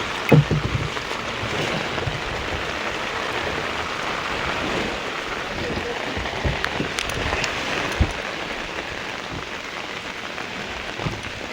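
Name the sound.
small wooden fishing boat being launched on water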